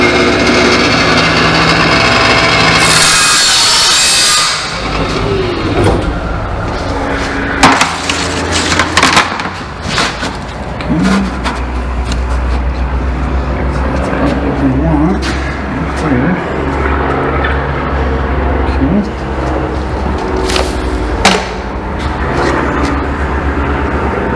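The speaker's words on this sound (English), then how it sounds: "I happen to have a abrasive saw right next to the bench here," An abrasive saw cuts a part at a workbench during a Harley-Davidson Shovelhead custom build, giving a loud, harsh whine for the first few seconds, followed by scattered clanks and handling noise while someone talks.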